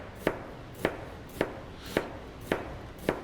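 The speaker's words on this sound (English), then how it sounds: "if you don't have a mandolin, you can do it the old school way, and we're just going to use a little bit of knife" A knife slices fennel thinly on a cutting board, six crisp evenly spaced chops about half a second apart, close and clear with no talking.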